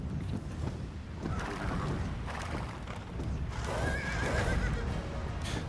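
A horse neighs in the video game Age of Empires II: clear, repeated whinnies over clip-clopping hooves and a steady game backdrop, heard alone without talk.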